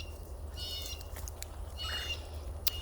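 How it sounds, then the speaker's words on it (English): Birds call in a vegetable garden with overgrown beds in late May, a few short chirping bursts over a low background hum, fairly faint and distant, with no talking. "We have so many birds here right now."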